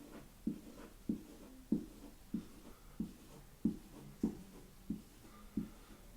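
A pen draws on a board with a steady run of about ten short, crisp taps and strokes at a regular rhythm, quiet and close with no talking.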